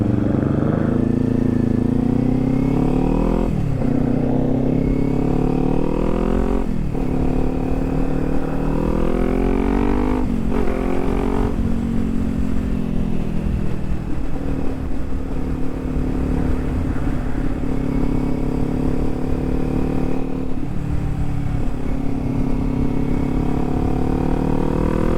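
Kawasaki Z400 motorcycle fitted with an aftermarket Leo Vince exhaust, riding steadily with a continuous loud engine drone that rises and falls through several gear changes and throttle swells, no talking.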